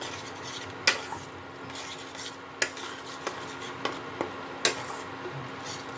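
A utensil scrapes and clinks against a pan now and then while a thinned ground spice paste is mixed into a cauliflower and egg korma, sharp metallic taps over a soft low simmer, fairly quiet and with no talking.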